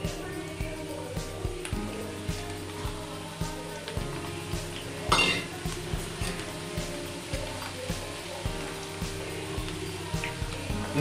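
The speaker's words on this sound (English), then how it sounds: "Always try and stir well properly, and stir by spoon." Moong dal and chana dal fry in hot oil while a spoon stirs them, giving a steady close crackling sizzle with small scraping pulses throughout and a brief louder burst midway.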